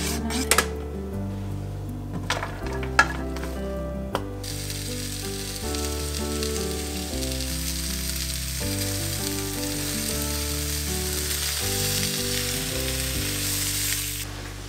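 A stir fry over rice cooks in a pan with a steady, close sizzle throughout, plus a few sharp clinks of utensils against the pan near the start.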